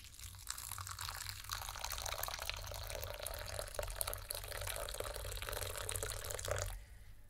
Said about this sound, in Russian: И теперь заливаем крутым кипятком.